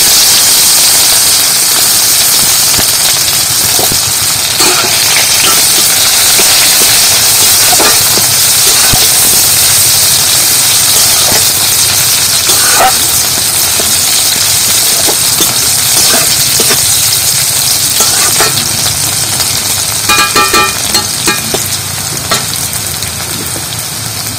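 Onion fries in a pan for a dish of cooked taro flowers, making a loud, steady sizzle close by, broken by scattered stirring clinks and scrapes and no talking.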